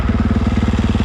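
A 250 motorcycle engine fitted with a Vortex ECU idles close up, giving a loud, fast, even thumping pulse that repeats steadily with no other sounds.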